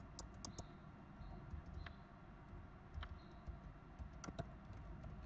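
Code being typed on a computer keyboard, quiet and close, with irregular soft key clicks and short bursts of taps over faint room noise.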